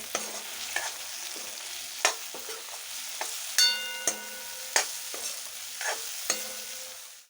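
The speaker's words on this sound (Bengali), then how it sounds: "জিরের গুঁড়ো ধনের গুঁড়ো ভালো করে নাড়াচাড়া করে নেব" Cumin and coriander powder being stirred in a pan for a chicken and eggplant curry, a spoon scraping in sharp irregular strokes over a soft, steady sizzle, with no one talking.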